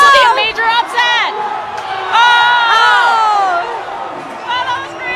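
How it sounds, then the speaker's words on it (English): A crowd at the Psicobloc Masters 2018 climbing competition cheers wildly, with loud, continuous whoops and high shouts rising and falling over a packed roar. "the crowd behind us is going wild"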